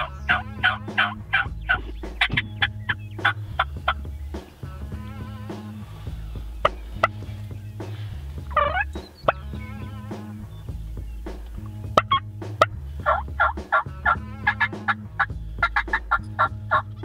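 A wild turkey gobbles repeatedly during a Nebraska turkey hunt, loud and fairly close, over a steady low rumbling background with occasional clicks and rustles.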